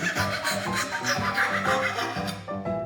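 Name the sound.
hand saw with carbon blade cutting material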